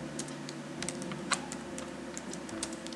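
Computer keyboard typing at a desk, a steady run of light, close key clicks with a few sharper presses standing out, over a low room hum.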